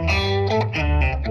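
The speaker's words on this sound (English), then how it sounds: "Organ grinder. Now this has got, well, it's got an octaver, a phaser and a reverb on it." An electric guitar plays through a TC Electronic Plethora X3 Organ Grinder setting with octaver, phaser and reverb, a few sustained distorted notes with a deep doubled low end, close and without voices.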